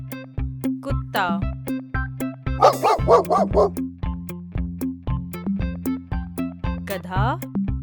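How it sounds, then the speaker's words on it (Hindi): A dog barks in short bursts over bouncy background music, with one brief voice partway through. "कुत्ता"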